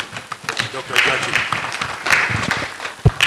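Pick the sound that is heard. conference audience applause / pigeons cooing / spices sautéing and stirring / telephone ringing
conference audience applause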